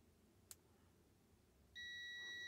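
An Aneng M113 multimeter gives its continuity buzzer as one steady high-pitched beep. The beep is faint and starts near the end after a tiny click.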